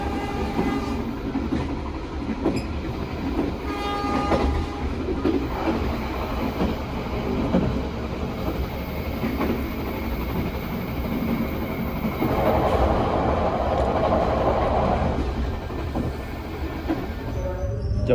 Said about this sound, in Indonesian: buat kebisingan di dalam kabin keretanya masih cukup teredam dengan baik